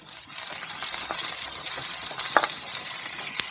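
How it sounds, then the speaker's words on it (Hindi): Tomatoes hit hot oil in a frying pan during a masoor dal kofta curry, giving a steady close sizzle with a few stirring clicks and spatters, no talking. "अब हम इसमें डाल देंगे टमाटर"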